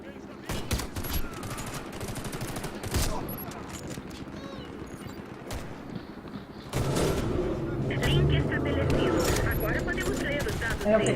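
Bursts of K-103 rifle fire in a survival video game crack in rapid clusters, with excited talk and ambient game noise running throughout.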